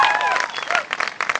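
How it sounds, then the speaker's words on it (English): Audience applause for a young performer at a poetry and music gathering in Khartoum, a short burst of clapping with voices mixed in, fairly close and steady. "Clap for him. Clap. And clap for our performer."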